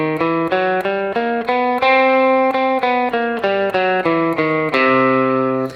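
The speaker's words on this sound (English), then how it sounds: "The 6th mode of the double harmonic minor scale is called the Lydian sharp 2 sharp 6 scale." Guitar picking out the Lydian sharp 2 sharp 6 scale, the sixth mode of double harmonic minor, in about a dozen evenly spaced single notes with a bright, slightly distorted tone, ending on a held note.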